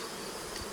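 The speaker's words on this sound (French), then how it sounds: "les abeilles vont pas tarder à battre le rappel devant" Honeybees buzz at a hive entrance, a brief steady faint hum with no voices.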